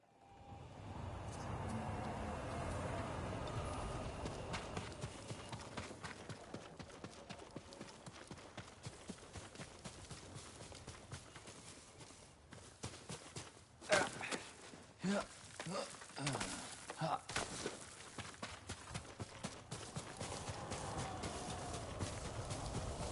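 Horse hooves clop rapidly in a steady galloping rhythm in the video game Ghost of Tsushima, close and fairly quiet, with a few louder hoof hits midway through.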